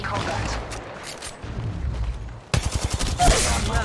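Gunfire in the mobile shooter Apex Legends Mobile: a quieter stretch of distant shots gives way to a loud close burst of rapid fire and impacts, with voices talking over the fight.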